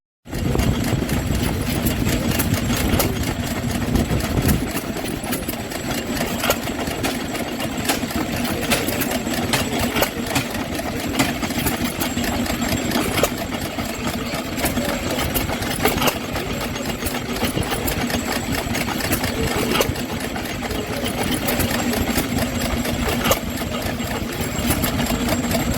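Hit-and-miss stationary engine running steadily close by, a continuous mechanical chugging and knocking that holds at the same loudness throughout.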